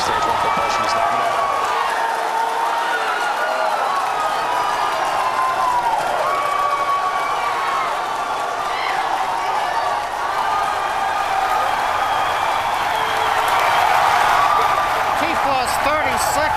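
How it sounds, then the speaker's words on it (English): Crowd cheering and applause at the Falcon Heavy rocket launch on its test flight, a steady, dense roar of many voices that swells near the end, with a voice talking over it. "If you can hear me over the cheering"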